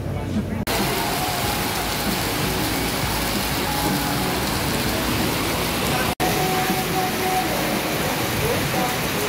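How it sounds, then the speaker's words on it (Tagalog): Heavy rain pours down in a dense, constant hiss that fills the whole stretch evenly, loud and unbroken apart from a brief dropout. "Inabutan na tayo ng ulan habang kumakain tayo sa Diwata."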